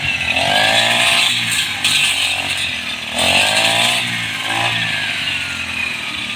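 A grass cutter with a metal blade runs at close range, its small two-stroke engine buzzing loudly and rising and falling as the cut is worked, with a harsh, continuous whine throughout.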